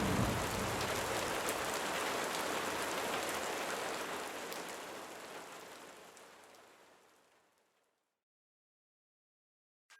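Steady rain during the rainy season in Nigeria, a dense even hiss of drops on surfaces that holds for several seconds, then fades away to near silence.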